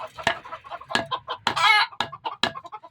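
Chickens cluck in short, repeated bursts near a farmyard spot where herbs are pounded for poultry, one call rising into a louder, drawn-out squawk midway.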